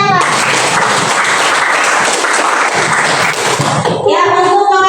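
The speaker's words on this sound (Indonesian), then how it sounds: "Oke, tepuk tangan untuk yang Mbak." A classroom group claps loudly for a student at a teachers' event, brisk dense clapping throughout before giving way to a voice at the end.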